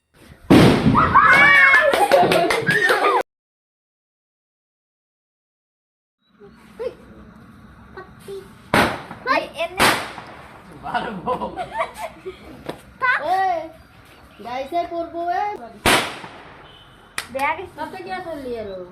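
Several sharp firecracker bangs burst at intervals near a temple, loud and close, between stretches of people talking and laughing, after an earlier noisy burst and silence.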